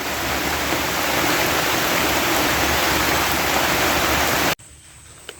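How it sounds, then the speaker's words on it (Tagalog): Heavy rain pours down steadily in a loud, dense hiss, then cuts off abruptly near the end, leaving a quiet background. "lumalakas ang ulan. Malakas."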